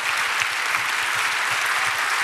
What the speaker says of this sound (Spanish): Dele un aplauso al Señor, aleluya.